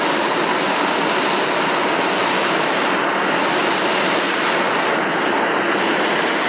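Propane torch flame burning against rockwool comfort batt insulation, a steady, loud, close broadband roar holding unchanged throughout with no pauses.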